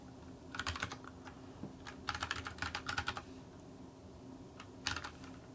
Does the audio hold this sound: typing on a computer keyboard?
yes